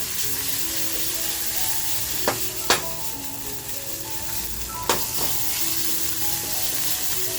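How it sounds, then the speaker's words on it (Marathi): Masala sizzles and fries steadily in a pan with kokum, a loud continuous hiss broken by a few sharp clinks of stirring. "छान असा आपला मसाला फ्राय करून घेऊया"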